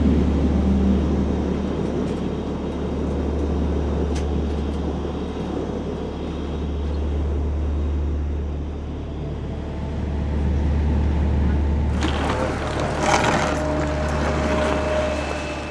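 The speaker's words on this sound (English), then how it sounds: "The worst turbulence I've ever experienced, and we just took off." Airplane cabin during a turbulent takeoff, with a loud steady engine drone and low rumble that swells and eases, plus a burst of rattling and clatter near the end.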